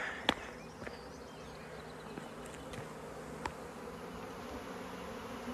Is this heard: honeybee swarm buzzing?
yes